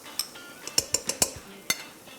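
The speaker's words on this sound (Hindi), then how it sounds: "अब इसमें हम दही का मिक्स डालेंगे" Several sharp metallic clinks and a soft scrape as a curd mixture is added and stirred into curry gravy in a pan, brief separate knocks spread over a couple of seconds.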